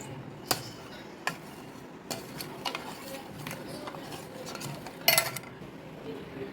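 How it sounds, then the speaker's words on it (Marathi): A utensil stirs a milk mixture for ice cream in a pot on the gas stove, with scraping and occasional sharp clinks against the metal, over a steady background hiss. "आता याला मी उकळी येऊपर्यंत असं हलवत राहते"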